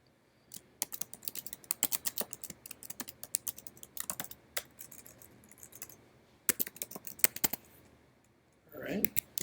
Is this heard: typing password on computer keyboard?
yes